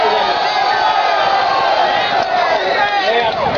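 Crowd at a political rally march in Washington, DC cheering and whooping loudly up close, a continuous dense roar of many voices.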